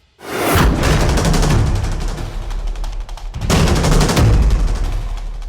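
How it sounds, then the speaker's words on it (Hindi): Gunfire effect in a Hindi TV drama scene: loud sustained bursts of shots and booms filling most of the clip, with a brief lull before a second heavy volley. "गोली चली थी?"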